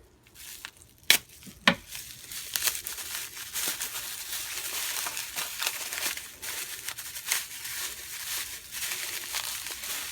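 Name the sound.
peeling back the packaging of a knife parcel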